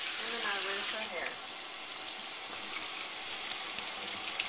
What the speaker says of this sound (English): And then I take these holes here and then I rinse her hair.